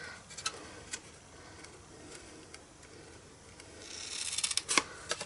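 Scissors snip through Stampin' Up! cardstock up to a score line on a box bag, a quiet run of small crisp cuts that grows busier and slightly louder near the end.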